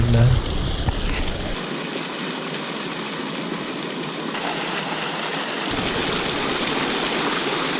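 Water rushes steadily while bottles are refilled at a natural drinking-water stream on a motorcycle trip along the Afghan border, a loud, continuous outdoor wash of flowing water with a low engine-like rumble underneath for much of the time.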